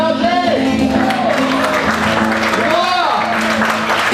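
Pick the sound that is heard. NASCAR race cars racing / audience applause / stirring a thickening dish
audience applause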